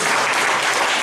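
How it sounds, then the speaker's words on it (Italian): Congregation applauding in a church, a loud, dense wash of clapping filling the whole short moment with no voices. "facciamo un applauso per le"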